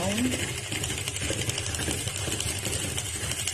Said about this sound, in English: I'll sew all the way down